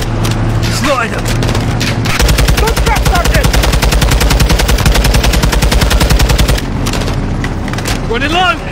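Dense, rapid automatic gunfire from a video game campaign battle, loud and sustained with booms and engine rumble mixed in, while voices shout over the shooting.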